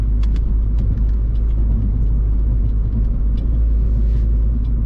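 A 2017 Mini Cooper S F56 with a JCW tuning kit, taking corners, its engine rumbling steadily at close range, deep and continuous, with faint road noise and small ticks over the drone.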